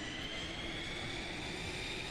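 Fighter jet engine in a video game, a steady faint roaring whine with a constant high tone and no breaks.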